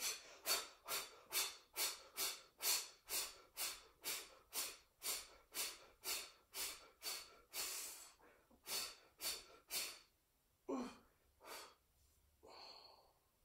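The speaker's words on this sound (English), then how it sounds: "Rapid breathing." Rapid rhythmic breathing during a yoga stretch, about twenty quick forceful exhalations in steady succession, close and clear, slowing into a few longer breaths at the end.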